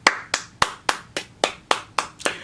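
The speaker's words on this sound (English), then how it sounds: "round of applause is to you" A single person claps hands nine times at an even, brisk pace, each clap sharp and close, with no talking in between.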